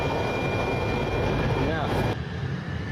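Airplane engines roaring steadily during takeoff and climb, a loud broadband rumble filling the cockpit, with pilots talking over it.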